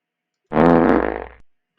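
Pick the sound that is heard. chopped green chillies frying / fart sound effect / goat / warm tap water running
fart sound effect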